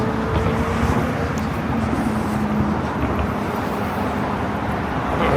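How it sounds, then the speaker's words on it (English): A modified Chevrolet car drives past on a busy New York City street in Manhattan, its engine lost in a steady, loud roar of surrounding traffic with no distinct pass-by swell. "The other one that just made that noise on my right, that was some sort of a Chevy, probably modified."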